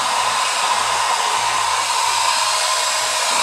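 A cheap hair dryer bought online runs steadily, blowing warm air with a constant loud whooshing hum and whine, close by and alone with no talk.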